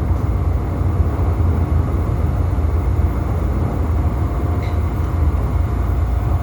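A Chicago CTA Brown Line rapid transit car rolls along the rails with a loud, steady rumbling roar heard from inside, constant throughout with faint squeals.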